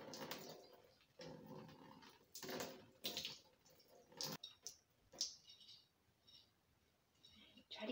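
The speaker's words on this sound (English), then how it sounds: "Drain out the water." Water is drained from a jar of alfalfa sprouts in irregular gurgling splashes and glugs, close and fairly quiet, with short bursts and pauses as the jar is tipped.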